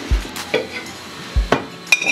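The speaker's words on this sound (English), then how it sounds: "You want to put your spatula up under there. Turn it." A spatula flips buttermilk pancakes on a greased griddle, with a few sharp scrapes and soft thumps spaced across the moment over a faint low sizzle, close by and with no talking.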